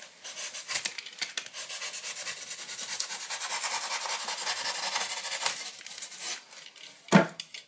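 Steady coarse rasping of a tool scraping across extruded polystyrene foam, continuous for several seconds, then a brief pause and a sharp knock near the end.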